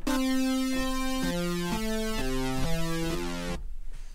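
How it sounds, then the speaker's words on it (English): A bright, buzzy vintage-style synth brass patch from Xfer Serum plays a short descending run of sustained notes, then cuts off into near silence. "It's a cool little, it's like a vintage brass sound"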